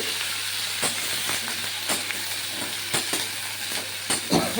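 Potatoes and radish stirring and frying in a pan, a steady sizzle broken by a few sharp scrapes of the spoon at irregular intervals, close by with no talking.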